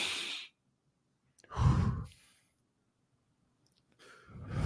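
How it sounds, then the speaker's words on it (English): A person taking deep breaths: two long, breathy inhale-exhale sighs separated by silence, close and soft, with another breath starting at the end. "Take a deep breath, bro."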